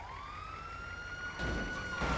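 A police car siren in a roleplay video game, one rising wail that holds steady, fairly loud and near, with a rush of engine or road noise swelling in partway through and no voices.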